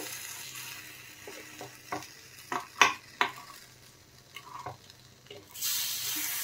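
Semolina appe frying in an appe pan and being turned over, with a steady soft sizzle broken by several sharp close clicks and scrapes of the utensil against the pan, and a louder hiss near the end.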